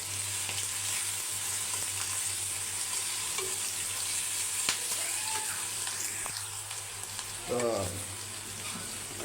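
Green chillies fry in a pan with a steady, close hiss and sizzle that runs throughout, with a faint low hum underneath and a few soft clinks near the end.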